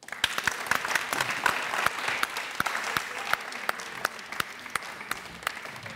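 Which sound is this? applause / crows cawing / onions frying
applause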